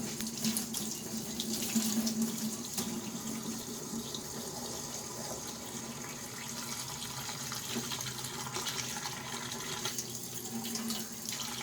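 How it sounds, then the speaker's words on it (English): Water runs steadily from a faucet into a sink to soak a whetstone, a constant splashing gush without pause, moderately quiet and close. "So let's go ahead and soak our stone in water."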